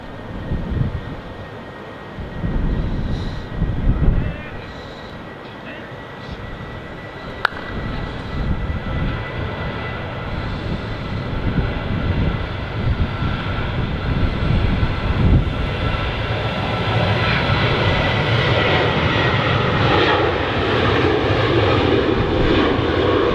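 An Etihad jet airliner at Manchester Airport roars on its takeoff run at full throttle, a loud, sustained engine thunder that builds steadily and holds steady to the end, with no voices over it.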